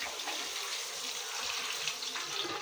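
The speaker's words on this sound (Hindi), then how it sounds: "पानी निकाल देंगे जिसका गंदा, यानी जिसमें हम लोगों ने इसको बॉयल किया" Water that chickpeas were boiled in drains away in a steady, loud, continuous gush and splash, close by and unbroken, with no talk over it.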